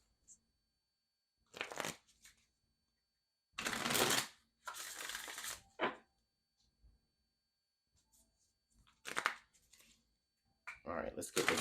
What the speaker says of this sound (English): All right, let's get this one good shuffle,